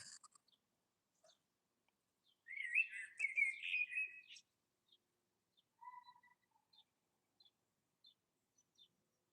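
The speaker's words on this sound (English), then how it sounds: "Thank you, God, for the sound of the birds" Faint bird chirps, with one warbling song phrase and scattered soft tweets around it in otherwise quiet surroundings.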